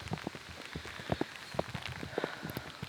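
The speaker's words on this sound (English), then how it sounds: "Also, it's raining." Rain falls steadily outdoors at a digging site for a building foundation, with scattered drops pattering nearby on hard surfaces.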